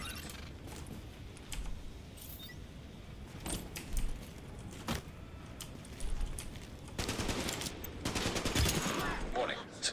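Gunfire in Tom Clancy's The Division during an area sweep in the Clinton District, scattered sharp shots and bursts, some distant and some closer, with rattling bursts growing denser near the end under faint voices.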